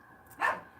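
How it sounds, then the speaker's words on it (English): A dog gives a single short bark in the background, faint and distant, with no talk over it. "I don't know if you guys can hear Bubba in the background, but that's Bubba barking."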